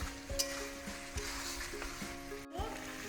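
Spice masala with chopped tomato and green chili sizzles steadily in a pan for a vegetarian papaya dalna, broken by a few scraping stirs of a spoon against the pan.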